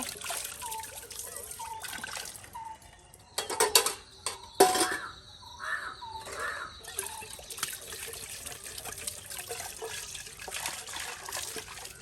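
Tea cups are rinsed and washed under running water, with trickling and splashing close by, a few sharp clinks of cups knocking together in the middle, and faint talk in the background.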